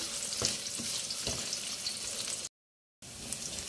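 Ginger sizzling as it fries in a pan for liver adobo with oyster sauce, a continuous close hiss with a few soft stirring knocks, broken by a short gap of silence.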